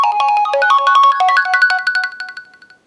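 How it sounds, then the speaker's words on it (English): The HTC One M8 ringtone plays loud and alone: a quick run of bright, bell-like synth notes in a bouncy melodic pattern that rings out, then fades into decaying echoes over about three seconds. "this was a look at the wallpapers and ringtones pulled from the all-new HTC One"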